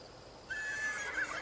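A horse in The Sims 3 gives one drawn-out whinny that starts partway through and holds steadily at moderate volume, with no talking.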